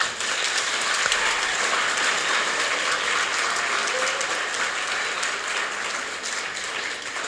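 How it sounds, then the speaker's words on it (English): Sustained, dense applause fills a school hall at a Grade 7 prestige event at Saldanha Bay Primary, a steady wash of many hands clapping at even loudness for the whole stretch with no voices over it. "let's give them a last round of applause."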